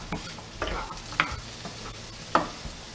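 Grilled cheese frying in a pan as the cheese melts, a low steady sizzle broken by a few sharp utensil scrapes and taps, close by with no talking.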